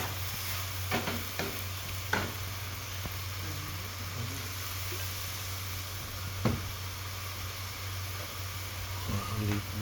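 Zucchini and oyster mushrooms are stir-fried in a pan: a soft, steady sizzle runs throughout, broken by a few sharp scrapes and clinks of the utensil, fairly quiet, with no talking.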